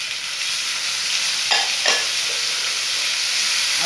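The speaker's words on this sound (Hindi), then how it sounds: "इसमें मैं टमाटर डाल देती हूँ," Chopped tomatoes fry in hot oil in a home kitchen pan while chilli paneer is cooked. A steady sizzle fills the pan, with two brief scraping stirs partway through and no talking.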